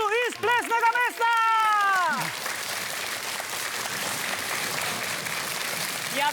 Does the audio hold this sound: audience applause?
yes